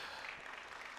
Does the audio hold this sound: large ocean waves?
no